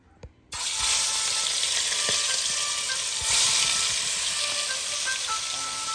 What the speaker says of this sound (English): Oil is ready. Let's get the meat going in here.